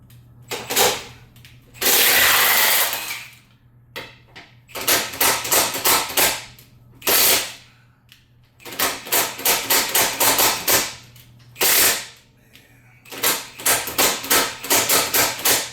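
An air impact tool removes engine brackets from a 2011 GMC Acadia, with repeated loud bursts of rapid hammering separated by short pauses, some bursts long, others brief blasts.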